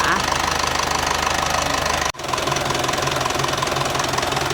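An Isuzu TFR truck idles in the sun with its hood open and the air conditioning running, giving a loud, steady mechanical clatter with a brief dropout partway through and someone talking over it.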